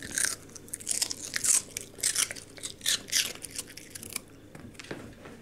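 A dog crunches and chews pieces of kohlrabi in quick irregular bites, wet crackly crunches close to the ear, with quiet pauses between.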